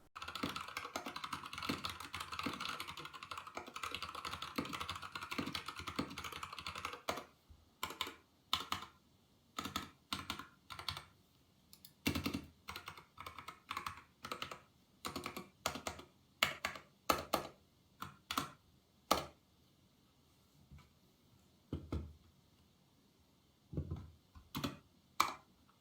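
Typing on an old N Pro 2 keyboard: rapid, dense keystrokes for several seconds, then slower, scattered clacks and taps with pauses. The keys sound close and crisp, with no talk.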